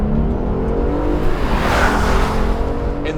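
A 2021 Genesis G80 driving past, its engine and tyre roar swelling and fading steadily and loud and close throughout, with no talk.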